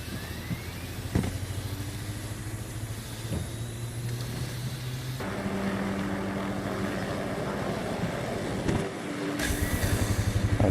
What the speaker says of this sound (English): I can hear a heli taking off